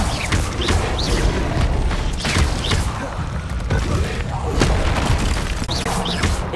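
Repeated Incendio fire spell impacts burst during a Hogwarts Legacy battle on hard mode, heavy booming hits and whooshes coming every second or so over dense combat noise, with voices mixed in.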